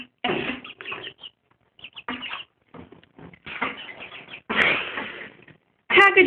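Three chickens and a duck being fed scraps dropped on a floor, giving bursts of short clucks and scratchy pecking with brief pauses, fairly close and loud, with no talk.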